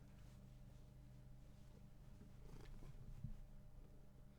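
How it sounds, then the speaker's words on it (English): A house cat purrs softly and steadily nearby, a low rumbling drone that swells slightly toward the end, with no talking. "Okay, cat, leave me alone."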